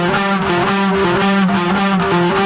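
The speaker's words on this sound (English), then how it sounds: "Now when the other guitar comes in," A distorted electric guitar plays the second guitar part of a song, sustained notes shifting in a steady riff pattern, loud and up close without any voice.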